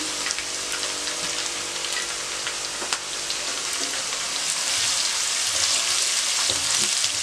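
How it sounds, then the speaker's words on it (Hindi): Steady, dense sizzling of garlic paste frying in hot oil in a pan, continuous and fairly loud with faint crackles, no voices. "इसको भी हल्का सा फ्राई कर लिया।"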